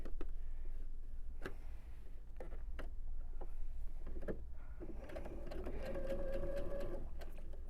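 A sewing machine stitching quilt block pieces together, running in steady rapid ticking bursts with short pauses and handling clicks, close and fairly loud, no speech.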